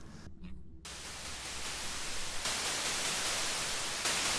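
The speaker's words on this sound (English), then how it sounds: "Let's feed some white noise into it" White noise running through a synthesizer filter, a steady hiss that shifts in tone and brightness as the filter changes, with a brief darker dip near the start and no voices.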